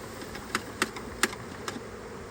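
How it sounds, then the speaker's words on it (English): Honeybees dumped out of an Apimaye ERGO Plus hive box buzz faintly in a low, continuous hum, with a few short sharp ticks and taps scattered through it. "Now it's a flurry of bees, but they're just disoriented"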